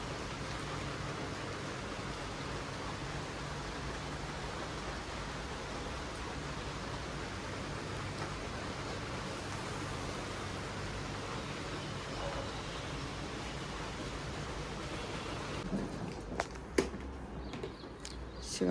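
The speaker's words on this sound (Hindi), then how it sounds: "बढ़िया बारिश हो रही है।" Steady rain falls in a constant, even hiss that fills the whole stretch, with a few faint knocks near the end.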